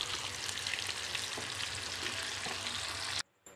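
Gola kebabs frying in a pan of oil, heard as a steady, fairly faint sizzling hiss with occasional soft knocks that cuts off abruptly near the end.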